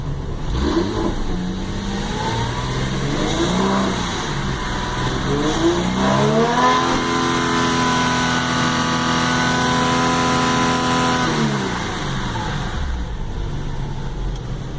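A Porsche engine with an Evoms Stage IV tune revs up and holds steady against a 5,000 RPM rev limiter, droning loud and close before dropping back down.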